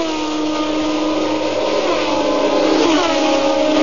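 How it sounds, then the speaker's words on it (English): A Leyton House racing car with a British-built Judd V8 engine screams past in a Formula One race, a loud, steady, sustained high-pitched engine wail with no talk. "you are looking at the Leighton House car with the Judd V8 British-built engine"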